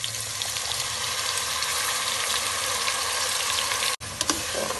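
Ginger-garlic paste frying in a pot for a shab daig curry, with a loud steady sizzle throughout that cuts out briefly near the end before resuming with a few stirring clatters.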